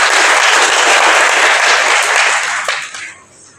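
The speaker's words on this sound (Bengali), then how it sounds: "তার জন্য একটি জোরে করতালি।" Audience clapping loudly and continuously at the Hajong Deuli festival, a dense close applause that fades out near the end.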